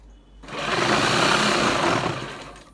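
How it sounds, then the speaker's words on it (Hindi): A sewing machine runs in one continuous burst of about two seconds while stitching the belt of palazzo pants, a close, loud, rapid whirring drone that starts and stops abruptly against a quiet room. "ये मैं एक ही सिलाई में इसको बैठा रहा हूँ"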